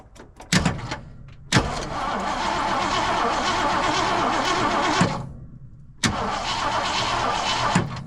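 A 1979 Jeep Cherokee Chief S Wide Track engine cranking over in two long, steady, close-up spells separated by a brief pause, with nobody talking.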